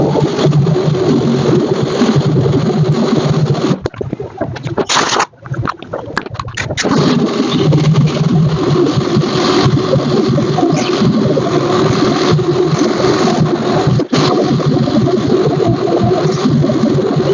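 A machine sander works over car bodywork, droning loudly and steadily with a brief dip where the tool lifts off the panel.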